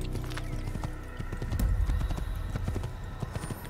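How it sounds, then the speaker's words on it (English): Horse hooves clip-clop in Assassin's Creed, a steady run of moderate hoofbeats close by, with a brief whinny mixed in over a soft game background. "Come here, horsey."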